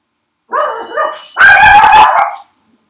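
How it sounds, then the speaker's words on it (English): A dog close by gives two short whiny yips, then a loud, sustained bark, all within about two seconds, with no one talking. "Sorry about the dog."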